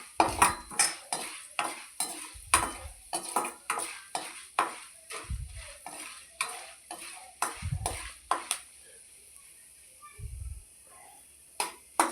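A metal spoon stirs fenugreek and spices roasting in oil in a pan, giving sharp scraping clinks against the pan in an uneven rhythm, close and fairly quiet, with a few dull low thumps.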